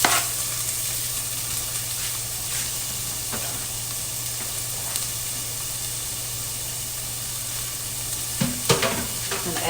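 Onions and peppers sizzle loudly in a smoking-hot stock pan, a dense, steady frying hiss with a few scraping stirs near the end.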